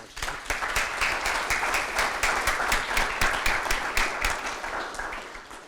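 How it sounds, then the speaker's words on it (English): A seminar audience gives a round of applause for the speakers at the close of a conference, dense even clapping sustained at steady volume for several seconds, no voices over it. "They deserve a round of applause."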